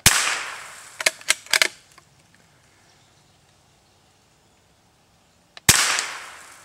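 Sharp gunshots in a video game: a lone loud crack, a quick cluster of three or four shots a second later, then a long pause before another single loud report near the end.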